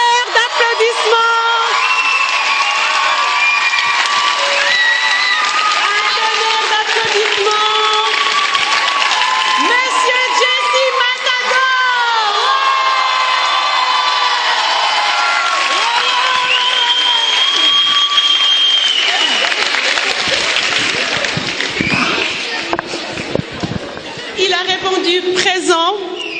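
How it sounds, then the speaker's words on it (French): Children cheer, whoop and clap at a Fondation Lubamba gathering. The sound is loud and sustained, with high shouts over continuous applause for the whole stretch. "La tonnerre d'applaudissements."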